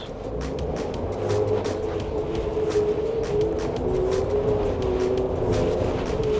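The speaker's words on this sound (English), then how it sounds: "HDC on, slot into reverse, and back down" A car backs slowly down a steep off-road slope in reverse under hill descent control, with no brakes applied, giving a steady low engine drone and faint mechanical whirring close by throughout.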